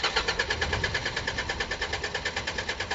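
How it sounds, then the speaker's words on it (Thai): An Isuzu NKR 110-horsepower truck engine cranks with a steady, rapid rhythmic chugging of the starter, loud and close, with no voices. "เสียงไดสตาร์ทดังดีมากเลยครับ"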